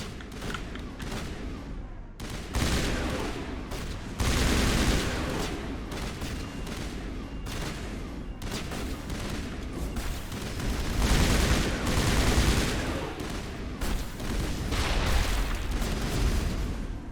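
Gunfire from the video game Mass Effect crackles in rapid bursts and booming volleys, dense and loud, with explosive thumps mixed through the continuous combat noise.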